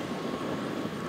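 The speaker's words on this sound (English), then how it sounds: "MT855B track tractor pulling a John Deere 1890 air drill that is 40 feet wide" Challenger MT855B track tractor with a 460 hp Caterpillar C15 engine pulling a 40-foot John Deere 1890 air drill while no-tilling winter wheat; a steady, loud low engine drone runs throughout without talk.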